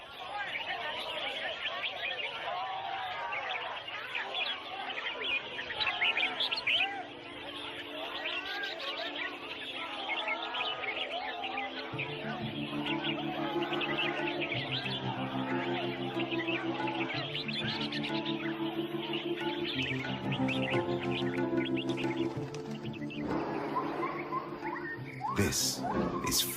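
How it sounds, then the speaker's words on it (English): Several captured rainforest birds sing at a market singing competition, their chirps and trills running continuously under steady crowd chatter and a low droning hum. "here participating in a bird singing competition"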